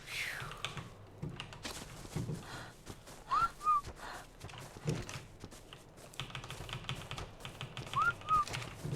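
Two short, rising-then-falling whistle calls in the video game ARK, several seconds apart, fairly faint over steady clicking of keys and a soft background hum.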